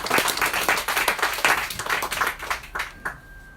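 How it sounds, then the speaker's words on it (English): An audience at a James Ellroy book event bursts into dense, lively applause, many hands clapping at once before it tapers off toward the end. "More applause."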